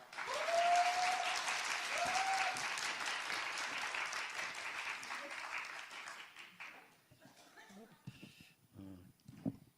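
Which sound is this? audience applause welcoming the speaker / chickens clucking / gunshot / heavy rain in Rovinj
audience applause welcoming the speaker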